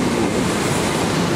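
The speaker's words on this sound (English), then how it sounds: "That's a train!" A train rolls through Clapham Junction station, producing a loud, steady rumble with a continuous wheel-and-rail roar close by and no voices.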